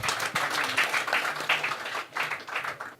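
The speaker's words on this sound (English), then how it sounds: "Can we give them a round of applause?" Audience applause for a panel of judges at a competition event, a steady wash of clapping from a crowd lasting a few seconds, fairly quiet and somewhat distant, with faint voices mixed in underneath.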